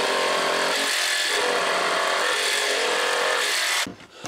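A jigsaw fitted with a DADO blade makes a test cut in clamped material, a loud continuous high-pitched buzzing whine that runs steadily and then cuts out abruptly, followed by a few brief knocks.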